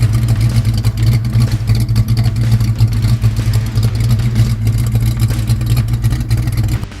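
Hemi V8 of a 1966 Plymouth Belvedere Satellite rumbling and revving with a deep, steady low throb, loud and close, no voices.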